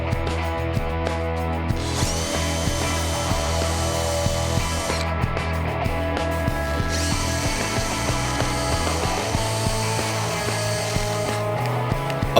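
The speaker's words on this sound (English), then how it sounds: "This will keep the angled support in place as I pre-drill and drive the screws." A power drill pre-drills and drives screws into wood to fix an angled support arm to an oval plate, steady close whirring with ratcheting clicks and brief pauses between bursts.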